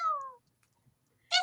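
Two short cat meows inside a fantasy game, one at the start and another near the end, separated by near silence, both clear and close.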